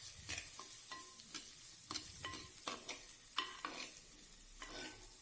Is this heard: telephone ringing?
no